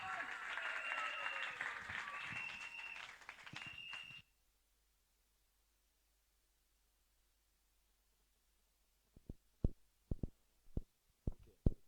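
Church congregation at an evening deliverance seminar applauding loudly, a dense sustained clapping mixed with voices and a held organ-like tone that cuts off abruptly, followed by silence and then a few scattered sharp claps.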